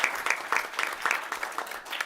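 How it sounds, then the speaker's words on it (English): A small group at a school board meeting claps in quick, uneven applause at close range. The clapping is light and fairly brief. "So I think we should give them a round of applause."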